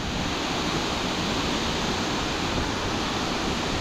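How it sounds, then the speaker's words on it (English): A main waterfall and many streams pour down rocks on a hillside in heavy rain, a steady, loud, broadband rushing roar filling the whole clip without break. "So you've got the main waterfall, then you've got all those streams coming down the rocks"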